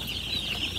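Baby chicks on a farm, a cluster of soft peeping and clucking calls going on steadily and close by, with no talk.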